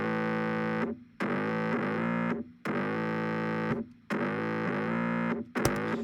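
Heavy, distorted digital bass voiced to mimic a guitar plays loud, sustained chord-like bursts in a steady pattern, separated by brief gaps, with no talking.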